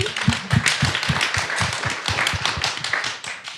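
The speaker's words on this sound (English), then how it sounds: "I would just like to give him a round of applause because I think he's awesome." Audience applause at a USENIX Enigma conference talk, a dense patter of many hands clapping steadily at moderate loudness, with some sharper individual claps standing out near the front.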